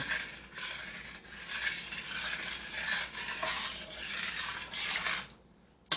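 A spoon scrapes and stirs ingredients for a confetti potatoes casserole in a dish, a continuous close rustling and scraping that stops abruptly near the end.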